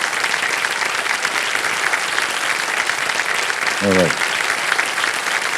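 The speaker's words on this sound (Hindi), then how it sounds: "तालियां।" A studio audience on a televised quiz show applauds continuously, a dense, even roar of clapping throughout, briefly overlapped by a short spoken word from a man.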